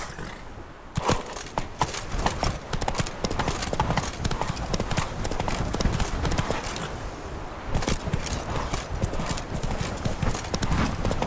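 Horse hooves clip-clopping at a steady trot across ground in The Witcher 3: Blood and Wine, rhythmic and continuous, with a brief whinny and a rider's voice urging the horse on.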